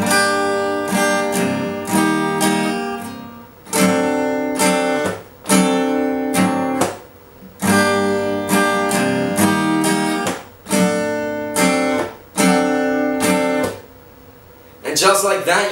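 Acoustic guitar strumming the chords of a song at a slow tempo, in repeated rhythmic bursts of strums with short muted gaps between phrases, played alone and close.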